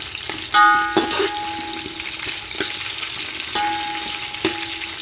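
Chili peppers roasting in a pan, a steady sizzle and crackle with occasional spatula scrapes and a few ringing metallic taps, close and fairly loud.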